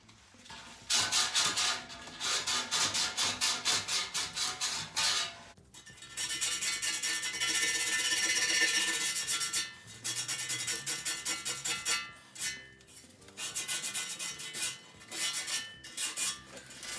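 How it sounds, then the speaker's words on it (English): Hand sanding a drift car's subframe during a subframe conversion on an R200 drift ute, a close, steady scratchy rasp in repeated strokes, with short pauses between passes. "I'm gonna finish it with some nice hand sanding, labor intensive"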